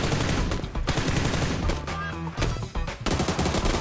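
Full-auto spray of gunfire from a shooter video game while running and aiming during recoil-control practice, loud, dense, sustained shots that break off briefly near the middle before resuming.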